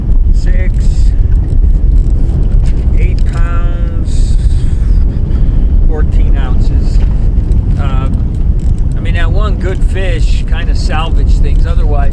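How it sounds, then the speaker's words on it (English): Strong wind buffeting a microphone while fishing at Cabinet Gorge, a loud continuous roar and rumble throughout, with someone talking over it. "otherwise it wouldn't have been worth fighting this wind today"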